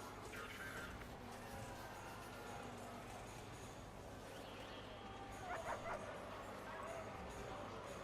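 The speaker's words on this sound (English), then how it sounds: "Dogs sniffing away" Sniffer dogs in the prison management game Prison Architect give faint yips, whimpers and barks over a busy murmuring game background, with a few sharper yelps partway through.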